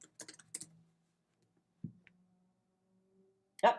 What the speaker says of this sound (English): then we have to type in your password again